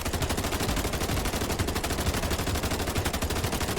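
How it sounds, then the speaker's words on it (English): A machine gun firing 7.62x51mm rounds in the video game The Division roars in one unbroken, evenly paced burst of loud rapid shots, with no other sound. "Now here's how it looks without any recoil control."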